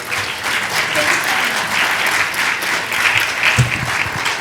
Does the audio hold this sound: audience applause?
yes